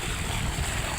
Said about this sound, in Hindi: ये 15 HP की मोटर है और 6-7 का पानी ऊपर निकल रहा है